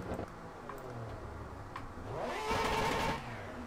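Mazda RX8 rotary engine in the racing game Assetto Corsa, idling with faint clicks before revving up sharply into a rising, loud rasp that peaks and then drops back, heard alone without talk.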